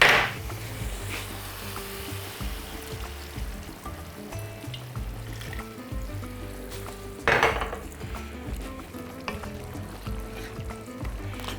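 Chicken breast frying and sizzling in a pan ahead of the broth, a steady close crackle with occasional stirring scrapes and louder bursts at the start and around the middle.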